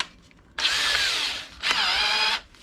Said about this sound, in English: So I just stuck it in my drill so I could spin it